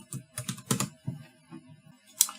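Quick, irregular clacks of typing on a small round-keyed mini Bluetooth keyboard, close and clear, with bursts of keystrokes separated by short pauses and one sharper click near the end.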